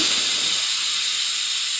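A pressure cooker whistle lets out a loud, continuous hiss of escaping steam with a thin, shrill tone on top.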